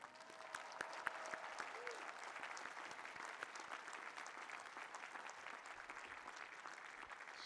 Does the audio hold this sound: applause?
yes